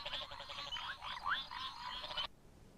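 Several Hemisus burrowing frogs, four-centimetre frogs that live and breed underground, croak in a dense overlapping chorus of rising, chirping calls that runs steadily, then cuts off abruptly near the end.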